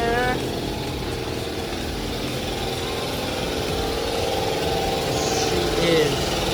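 An LS V8 swapped into a Nissan 350Z runs strapped to a dyno, a steady, loud engine drone with a low rumbling idle filling the whole stretch, while voices murmur faintly beneath.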